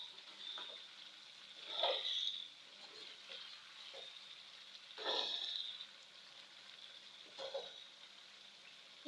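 Pork meat simmers with a little water in a pan, a soft low sizzle and gentle bubbling that swells in three louder spells, quiet and close.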